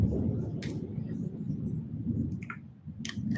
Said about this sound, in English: telling me there's a big storm, isn't there?